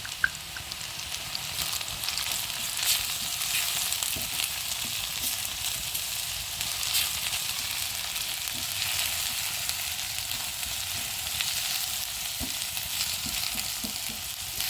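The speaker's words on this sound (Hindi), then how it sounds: "अदरक लहसुन ज़रा सा भुन जाए" Garlic, ginger and crushed green chillies frying with browned onions for a mixed vegetable curry, a loud, continuous sizzle with faint stirring clicks, steady and close throughout.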